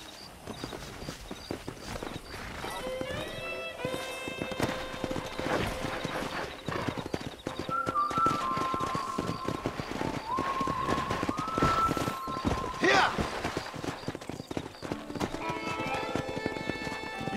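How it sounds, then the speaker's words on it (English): Wild horses gallop in Red Dead Redemption, with steady, fast clip-clop hoofbeats running throughout, joined by whinnies and sustained tonal layers above the pounding. "That ranch hand said there's a pack of wild horses nearby."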